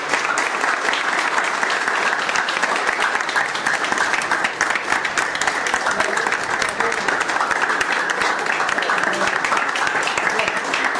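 Sustained audience applause at a technology conference award moment, a dense, even crowd of clapping hands holding steady and fairly loud throughout.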